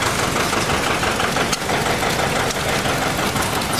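A Massey Harris tractor engine idles in a steady, loud rumble with a rhythmic knocking throb, close by and without speech.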